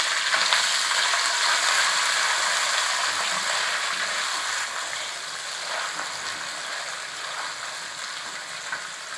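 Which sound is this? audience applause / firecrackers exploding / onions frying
onions frying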